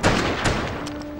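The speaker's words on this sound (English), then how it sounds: "A gunshot!" Gunfire in the western video game GUN: a couple of sharp close shots crack out in quick succession over a brief stretch, with a ringing tail after the blasts.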